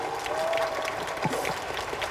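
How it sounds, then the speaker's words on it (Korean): An audience at an open talk at the Busan International Film Festival applauds with steady, moderate clapping for a couple of seconds, heard from a distance in a large hall. "서로 두 분에게 박수 한번 부탁드릴게요."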